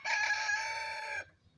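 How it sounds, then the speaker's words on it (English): A single cockerel crows nearby, a bright, sustained cry lasting over a second before cutting off into quiet. "I'm vaguely at war with a cockerel at the minute"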